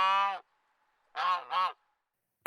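A goose honks three times at close range, one long call followed by a short pause and then a quick double honk, loud and clear against silence, with a brief extra burst at the very end.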